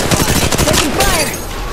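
Automatic gunfire from the video game Apex Legends Mobile fires in a fast, loud, close burst that runs through the whole short moment.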